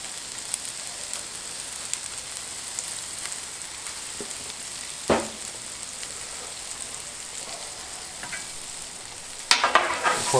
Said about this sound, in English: Now we're going to go ahead and add our vegetables.